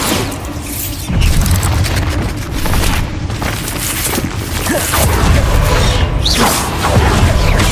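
Heavy booms and crashing blasts from a Bombarda explosion spell in Hogwarts Legacy, layered with whooshing spell effects and continuous combat noise throughout a chaotic duel.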